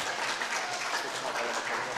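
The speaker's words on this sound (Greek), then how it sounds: "Αυτό με το χειροκρότημα ωραίο." An audience at the end of a Greek Karagiozis shadow puppet show claps in a dense, steady round of applause that fills the whole moment.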